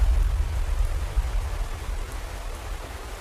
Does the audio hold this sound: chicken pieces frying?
no